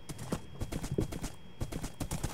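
Horse hooves in the Minecraft video game clip-clop in a quick, regular rhythm of crisp, close steps, heard alone and continuing throughout.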